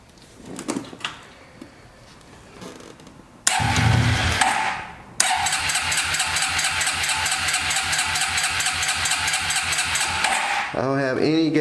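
An abandoned 1998 Suzuki Quad Runner 4x4 engine cranks over with a loud burst, then keeps up a steady, rapid churning drone for several seconds before fading out, preceded by faint handling noises.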